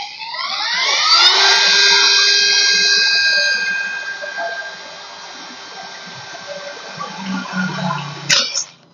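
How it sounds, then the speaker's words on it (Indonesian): A compact Dongcheng DCPL208 impact driver drills with a self-tapping screw, giving a steady, loud high-pitched motor whine that holds for about eight seconds before cutting off abruptly with a brief clatter. "tapi ini gue nyobanya untuk mengebor"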